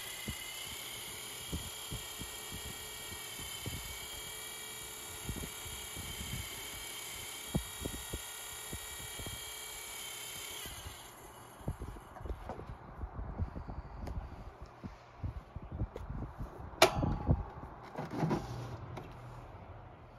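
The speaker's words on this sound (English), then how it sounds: "It gets to rattling a little bit when the oscillation's on." Crown 12-inch oscillating desk fan, model YL-1200P, with a steady motor whir and hum for the first half, then irregular light rattling and clicking as the head oscillates, close and moderately loud, with no talking.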